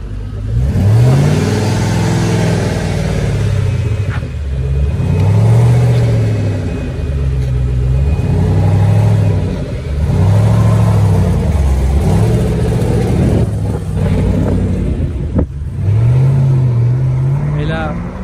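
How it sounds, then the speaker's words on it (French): A blue Ford Mustang Shelby's engine revs repeatedly in loud, rising-and-falling bursts at a regular pace, close by at a car meet, with people talking over it. "Ford Mustang Shelby, un très joli bleu. Voilà, regardez-moi ce monstre."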